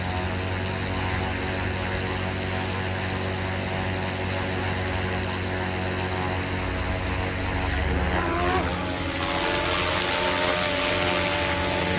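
A Huey-style 470-size RC helicopter flies in ATTI mode, its rotor and motor making a steady, loud, tonal whine and buzz throughout, with the pitch rising briefly near the end.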